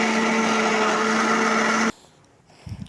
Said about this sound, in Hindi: बाकी आपने ये सब चीज़ें डाल के इसको अच्छा सा बारीक पीस लेना है, ग्राइंडर कर लेना है